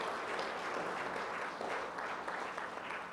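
An audience at a Caribbean poultry association opening session applauds, a dense, even roll of many hands clapping throughout, moderately distant.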